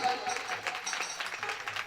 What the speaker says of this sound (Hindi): एक बार नंद बाबा के लिए ताली बजा दें जोरदार से